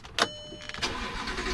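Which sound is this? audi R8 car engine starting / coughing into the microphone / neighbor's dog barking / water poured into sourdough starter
audi R8 car engine starting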